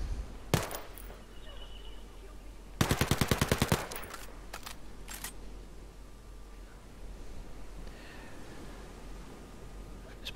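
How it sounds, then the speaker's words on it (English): UMP submachine gun in Ghost Recon Breakpoint: a single sharp sighting shot, then a short rapid full-auto burst of about a dozen rounds, followed by a few scattered single shots over quiet ambient noise. "So one sighting round and then full auto."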